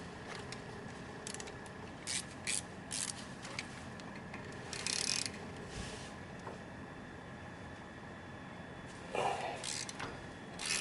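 A ratchet works a Torx T45 brake bolt on the front brakes of an R56 Mini Cooper S, giving quiet mechanical clicks and short scraping bursts at irregular intervals over a low background hum.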